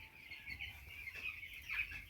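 Broiler chickens about twelve days old, sick with coccidiosis and enteritis, cluck and chirp faintly on a poultry farm in a brief, soft, steady murmur with a few sharper calls.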